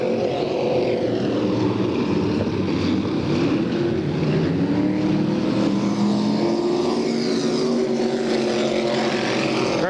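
IMCA modified race cars roar around a Bakersfield, California dirt track during a qualifier, a continuous loud engine drone with rising and falling pitch as cars pass, no talk.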